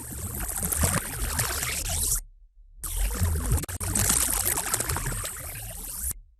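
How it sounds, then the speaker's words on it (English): Satellite magnetic field data of the Northern Lights made audible forms a dense hissing, rushing wash like pouring water or static, heard in two long loud bursts with a short silent gap between them. "we can hear what the Northern Lights could sound like."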